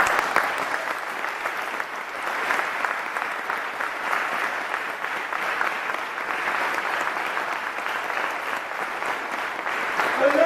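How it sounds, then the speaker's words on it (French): A congregation at a church feast for the Holy Name of Mary claps for the mother, with dense, sustained applause from a crowd running steadily for about ten seconds at moderate distance. "Acclame la maman."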